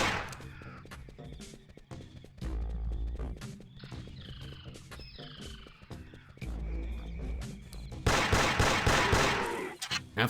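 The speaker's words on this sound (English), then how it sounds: "So the sidearm Chop Hunter pistol gets put back to work." Rapid pistol gunfire from the Chop Hunter sidearm in the Carnivores dinosaur hunting video game, repeated sharp shots over a croaking, rumbling game ambience with a dense burst near the end.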